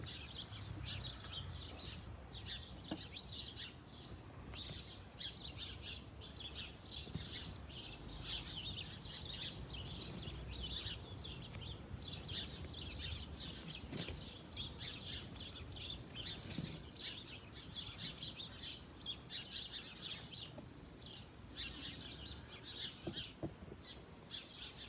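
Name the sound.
small birds chirping in a jabuticaba tree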